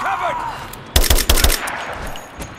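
Video game gunfire from Rise of the Tomb Raider: a loud, rapid burst of automatic shots in a cluster near the middle, preceded by a brief electronic tone and followed by fading echo.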